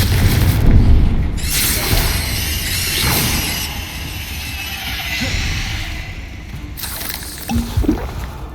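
Fiery spell blasts from Hogwarts Legacy's Confringo curse burst out in a dense, roaring rush at the start, followed by sizzling, crackling magical effects and a second burst near the end, with no talking.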